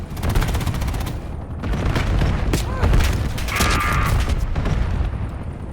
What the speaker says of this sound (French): L'ennemi a tiré un missile de précision.